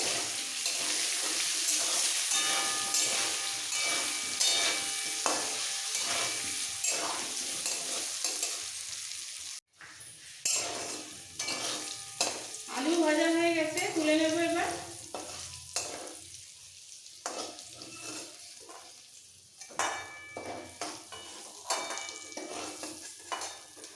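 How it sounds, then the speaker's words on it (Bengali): Potatoes frying with red chili powder in a pan, with a continuous sizzle and stirring clatter, broken by a brief pause and a stretch of running tap water midway. "এবার আলুগুলোকেও খুব সুন্দর করে ভেজে দিতে হবে"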